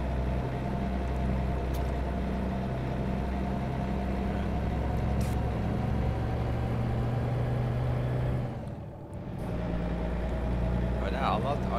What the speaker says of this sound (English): I don't mind the engine and this truck, it sounds pretty good.